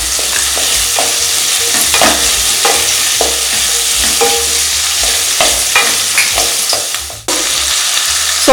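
Prawns and capsicum sauté for prawn Manchurian, a loud, steady close sizzle of frying with repeated stirring scrapes of a spatula in the pan, briefly dipping near the end, with no talking.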